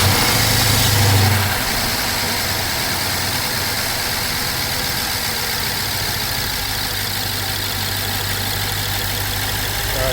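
A car engine, being checked for a failing catalytic converter, kicks over with a loud starting surge, then settles into a steady, even idle that drones on close by without voices.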